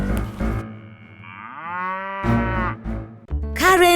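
Cows on a farm moo loudly and close by in several long, drawn-out calls with rising and falling pitch, overlapping one another with no talking.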